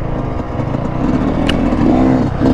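A 2021 Yamaha YZ450 dirt bike runs with a loud, close, continuous engine drone that climbs slightly in pitch toward the end, alone with no talking.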